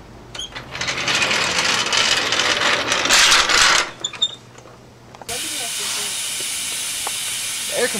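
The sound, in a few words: air compressor hissing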